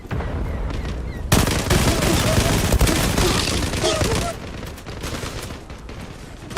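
Rapid automatic gunfire from the online shooter Zula, a Tommy gun spraying dense bursts that start abruptly and run loud and continuous for about three seconds, then carry on thinner alongside game noise.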